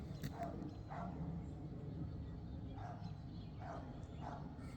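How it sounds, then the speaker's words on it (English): A few scattered dog barks at a distance, irregular and fairly faint over a steady outdoor background hum. "dogs barking"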